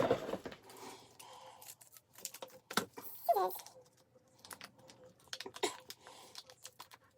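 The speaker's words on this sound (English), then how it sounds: "Maybe we'll just get the scissors." Quiet snips and plastic crackles come from scissors cutting open the packaging of a cheap eyeshadow blending brush, a few soft clicks spread across a mostly hushed indoor scene.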